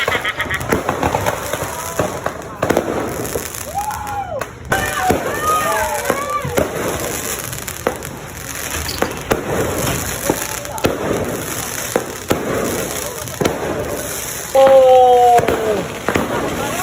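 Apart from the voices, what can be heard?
fireworks at midnight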